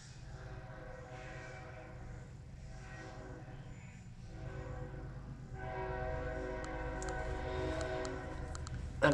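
A train passes by at night in rural Laclede County, its rumble building steadily with a horn sounding toward the end, fairly loud and continuous with no talking.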